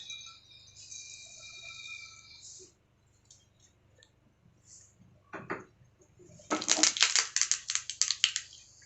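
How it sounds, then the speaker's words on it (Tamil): Mustard seeds crackle and pop in hot ghee while tempering for dal vada: a dense run of sharp, close spatters bursts out after a quieter stretch of faint sizzling and scattered ticks. "கடுகு நல்லா பொரிஞ்சு வருது."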